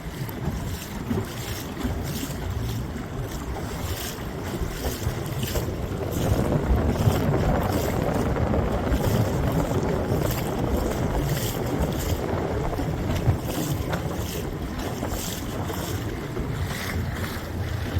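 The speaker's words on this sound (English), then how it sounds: "That wind's picked up a little bit." Wind buffets a sailing boat at sea off Kekova, Turkey, a loud continuous rushing roar with gusty microphone rumble and water wash against the hull, swelling midway and carrying on steadily with no talking.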